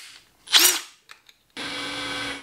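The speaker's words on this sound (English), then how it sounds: "I'm going to fit the bolts with my overpowered drill again." A power drill driving bolts on a trials bike whirs in two bursts: a short rising spin, a few faint clicks, then a longer steady high-pitched run, close and loud.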